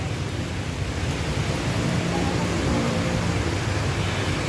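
Heavy rain falls outside the front gate of a hotel, a dense, steady roar of broadband noise that holds at the same loud level with no pauses.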